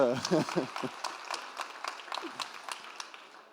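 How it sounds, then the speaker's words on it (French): An audience applauds eloquence contest winners with scattered, irregular claps from a small crowd, beginning under a brief voice and then continuing alone before fading out. "merci encore de les applaudir pour commencer"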